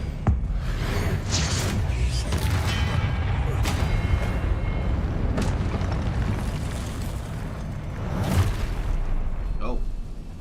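Booming magical blasts and bursts from an Expelliarmus spell cast in the Hogwarts Legacy video game, loud and repeated amid a continuous rumble of game effects, with someone talking over them.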